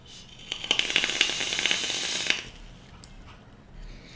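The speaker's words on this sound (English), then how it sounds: "Hear that crackling, Mr. Charles van Niekerk." Crackling and faint popping from a vape being puffed, a dense burst of fine crackles that runs for about two seconds and then cuts off, with quiet room tone afterward.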